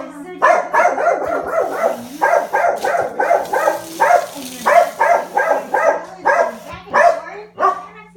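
A pet dog named Maxie barks in a long run of repeated, fairly close yaps in rhythmic bursts, while someone talks to him over the barking.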